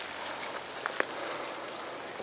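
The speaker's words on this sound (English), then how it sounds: "It was the rain, wasn't it?" Constant rain washing down, an even broadband hiss with a couple of faint distinct drips or taps standing out briefly.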